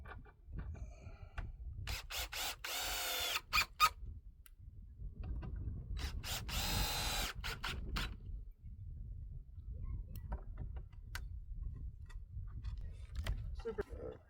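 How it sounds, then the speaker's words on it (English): A power drill whirs in two short bursts, each lasting a second or two, with quiet rubbing and handling noises in between, while building a greenhouse by hand. "I drill it."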